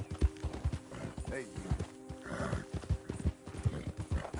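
Hooves of a Red Dead Redemption 2 horse thud in an even walking gait nearby, with a short whinny partway through and a voice speaking over the steps.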